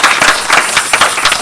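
A church congregation claps briefly and loudly at close range, a dense patter of many hands.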